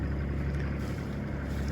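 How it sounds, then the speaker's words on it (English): Steady low engine drone of a sailboat motoring across the Aegean in strong Meltemi wind, continuous and even with rushing wind noise over it. "Engine started, batteries are on charge."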